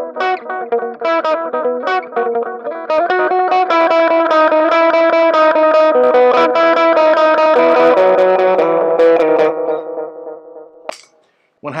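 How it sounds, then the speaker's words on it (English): Electric guitar through an atmospheric delay pedal with very little gain, playing clean melodic notes that ring and repeat with echoing trails, loud and alone, fading near the end. "Have that really atmospheric delay and very little gain."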